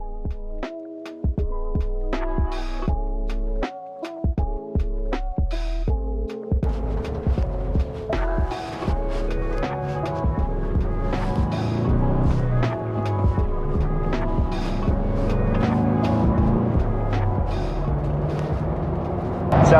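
Wind noise inside a manual two-door Ford Bronco hardtop with the Sasquatch package, a low rumbling roar that swells steadily as the vehicle speeds up onto the highway, with faint tonal sounds early on.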